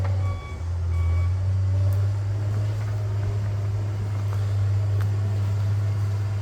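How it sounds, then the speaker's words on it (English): A big John Deere machine pushing through woods on a gravel driveway and trail job: a loud, steady low engine drone with high reversing beeps repeating near the start. "The big John Deere in its natural habitat."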